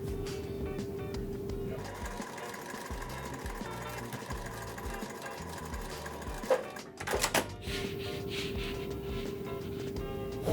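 A sewing machine joins two quilt pieces into a center block, running in a steady close hum with rhythmic needle chatter, briefly interrupted by a few sharp clicks and knocks before resuming.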